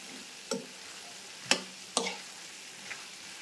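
Potato and carrot fry with green chilli being mixed in a pan: a quiet low sizzle under a few distinct spatula clinks and scrapes, spaced unevenly, close by.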